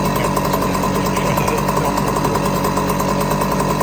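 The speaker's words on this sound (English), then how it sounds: "we'll just let it idle out, and it'll stop on its own." A small gas engine idles loud and steady with a continuous even rumble and no break over the whole stretch, running out its fuel before stopping on its own.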